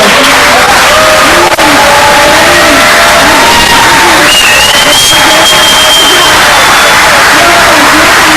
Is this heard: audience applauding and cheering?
yes